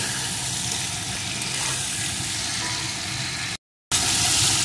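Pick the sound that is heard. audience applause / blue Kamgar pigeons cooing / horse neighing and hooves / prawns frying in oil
prawns frying in oil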